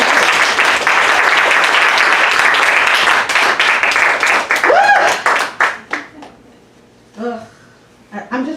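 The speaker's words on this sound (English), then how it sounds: "Renia White, take some claps." Dense audience applause for poet Renia White fills a poetry salon, steady for a few seconds before thinning into scattered claps as a voice begins speaking over the fading clapping.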